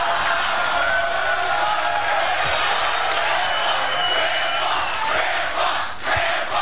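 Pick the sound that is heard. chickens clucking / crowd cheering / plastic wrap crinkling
crowd cheering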